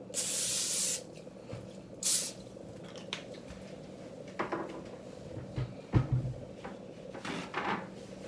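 Cooking spray hisses onto a pan in two short bursts, followed by quieter kitchen clatter and soft bumps nearby, with no talking.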